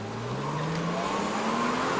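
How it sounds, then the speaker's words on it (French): A BMW Z3 roadster with a fairly quiet stock exhaust, its engine note rising steadily as it revs up, a continuous drone heard close and alone. "Le seul truc qui m'emmerde, c'est qu'elle ne fait pas assez de bruit à l'échappement"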